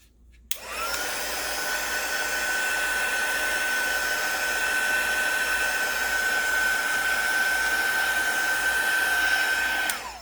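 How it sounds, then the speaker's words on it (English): A small heat gun switches on and blows steadily, drying watercolor paint in an art journal; a loud, even airy roar with a high whine holds for about ten seconds before clicking off. "Little heat gun."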